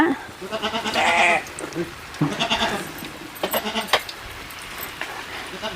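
A herd of sheep being driven home bleats repeatedly at close range, several overlapping calls rising and falling while people talk nearby.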